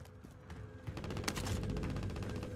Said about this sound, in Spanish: Se escucharon balazos.